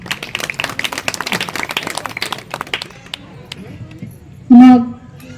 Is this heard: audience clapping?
yes